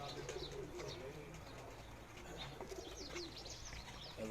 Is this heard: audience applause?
no